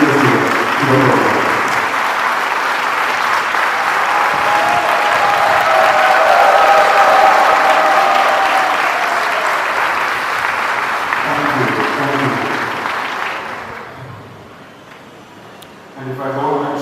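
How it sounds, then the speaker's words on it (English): An audience at a college engineering event in Kollam, Kerala, gives a long, loud round of applause, a dense clapping roar that builds, holds and then fades as speech resumes near the end. "can we all stand up and give a big round of applause for our beloved leader"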